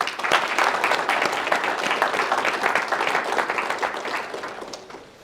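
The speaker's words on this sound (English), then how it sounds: "join me in giving a big round of applause to the committee of the Muslim Student Association" Steady, dense applause from an event audience at a university Muslim Student Association gathering, sustained throughout and fading slightly at the very end.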